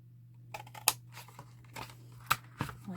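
Scissors cutting out a paper cracker template, a few close, crisp snips and paper rustles in short bursts over a faint steady hum.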